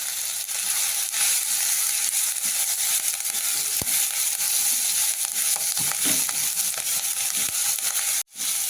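Peanuts and curry leaves frying in hot oil in a pan, a continuous bright sizzle with scattered crackles and occasional scraping stirs, ending in a brief sharp drop.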